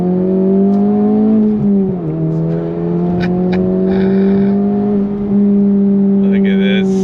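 A Honda Civic Type R engine pulls hard on throttle from inside the cabin, a loud steady drone rising in pitch, dipping briefly at a short shift, then climbing again.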